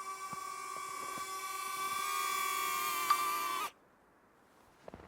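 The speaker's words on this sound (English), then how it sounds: "I'm going to land this drone" A small camera drone whines with a steady high-pitched rotor buzz while hovering near, then cuts off abruptly as it lands, followed by near silence and a couple of faint knocks.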